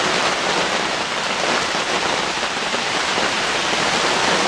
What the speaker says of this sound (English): It is blowing and pouring rain.